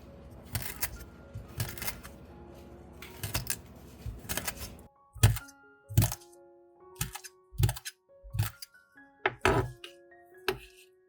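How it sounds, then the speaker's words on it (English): A knife slicing green aloe vera peel into thin strips on a board, a run of sharp, distinct cuts and taps, evenly spaced and close, with faint music underneath. "Cut this peel into thin strips."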